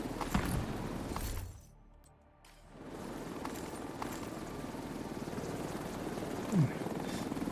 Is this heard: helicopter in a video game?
yes